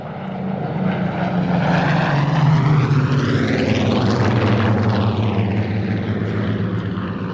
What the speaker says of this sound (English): Especially for Maurice, I'll let this run through just this little bit because I know he likes the sound of the warbirds